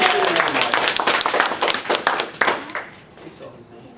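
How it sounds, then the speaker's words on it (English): A few seconds of lively clapping from a small group, dense and close, thinning out toward the end. "Let's give Marcus a warm round of applause."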